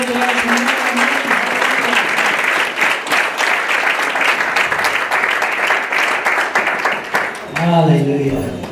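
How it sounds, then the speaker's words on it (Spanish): A church congregation breaks into loud, sustained applause that fills the room steadily for several seconds, with a voice rising over it toward the end. "Queremos dar un aplauso fuerte."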